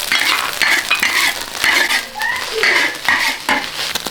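Preserved mustard greens are tipped into a hot pan with the eggs and stirred, producing a busy stretch of close scraping, clinking spatula strokes and light sizzling in irregular bursts.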